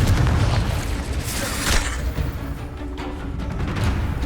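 A Confringo explosion spell blast in the video game Hogwarts Legacy, a loud, sustained roaring boom with dense low rumble and crackle that fills the whole moment, no talking.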